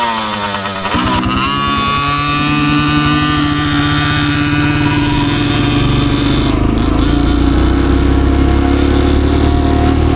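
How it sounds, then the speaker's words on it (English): A KTM 50 dirt bike with stock jetting is held at full throttle on a forest trail, flooding. It gives a loud, sustained, buzzing two-stroke engine whine that revs up sharply after a second and then holds high and steady. "He's got the stock jetting in and he keeps giving it full throttle and it's flooding the bike."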